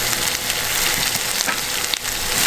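Onion and tomato fry in a pan for pork sinigang, giving a dense, loud, continuous sizzle with faint stirring scrapes throughout and no voices.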